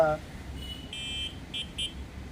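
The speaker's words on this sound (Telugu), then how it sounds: "ఇది హార్న్" An EMotorad T-Rex Air electric bicycle's electronic horn beeps three times: one longer tone, then two short bursts, over low background rumble.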